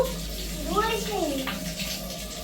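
Water splashing and pouring over a child during washing, with steady running water close by and a voice rising briefly over it.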